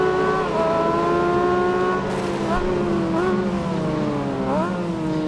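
Motorcycle engine in the RIDE 4 racing game, a continuous loud whine sliding up and down in pitch through gear changes, with a voice talking over it throughout.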